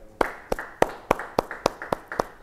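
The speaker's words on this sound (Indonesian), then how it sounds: "yang berterima kasih, beri tepuk tangan buat Tuhan." A church congregation claps in unison, about nine sharp claps in a steady, even rhythm, fairly close and clear with nothing else over them.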